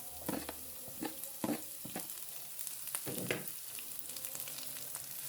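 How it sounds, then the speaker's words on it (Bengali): Chopped onion and garlic fry in a pan for a village-style Bengali dish, a continuous soft sizzle broken by several scraping stirs, close and fairly quiet. "পেঁয়াজ কুচি আর রসুন কুচি একটু ভালো করে ভেজে নিব।"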